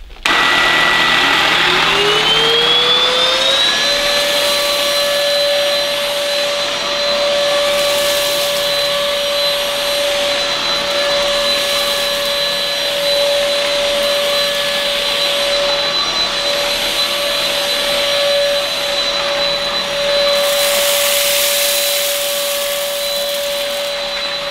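Linsar BH607 cordless vacuum cleaner running on a wiry carpet, spinning up with a rising whine in the first few seconds, then a loud, steady near motor drone with a high pitched tone, no voices.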